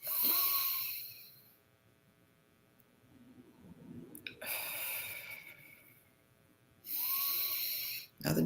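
A group breathing exercise: long, soft airy exhales and inhales near the microphone, a strong breath at the start, another in the middle and one at the end, with quiet pauses between.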